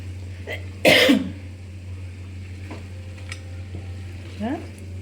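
Chicken frying in a pan for a gongura chicken curry, stirred after chili powder is added, gives one loud scraping burst of stirring, then softer clinks and sizzling over a constant low hum.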